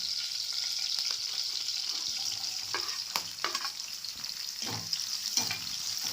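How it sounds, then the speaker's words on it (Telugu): Finely chopped onions fry in hot oil in a pan for fish curry, giving an even, moderate sizzle. A few soft stirring knocks and scrapes come through toward the end, and no one talks. "ఇప్పుడు మనం సన్నగా తరిగిన ఉల్లిపాయలు వేసుకుందాం"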